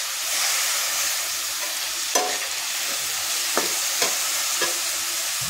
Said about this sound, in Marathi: आता आपण तांदूळ घालून घेणार आहोत लगेच.